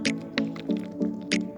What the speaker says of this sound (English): I'm drinking some water